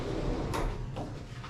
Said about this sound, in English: It has a sliding door here for the shower area.